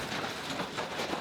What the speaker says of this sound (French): C'est un train qui arrive avec des traverses neuves et qui repartira avec les traverses anciennes.